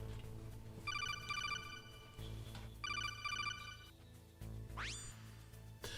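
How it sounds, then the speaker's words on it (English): A phone rings in the Metal Gear Solid video game: two bursts of rapid electronic trilling tones separated by a pause, then a quick rising beep, all over a steady low hum with no talk. "They don't hear the ring of our phone."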